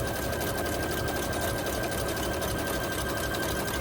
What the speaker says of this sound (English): I'll do like that very pronounced zigzag. It's a heavier zigzag.